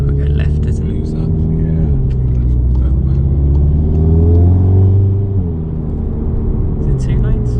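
Oryx white APR Stage 2 MK7 Golf R with a bigger turbo, driven on the road: a steady close engine drone from inside the cabin that rises and falls through gear changes, continuous throughout.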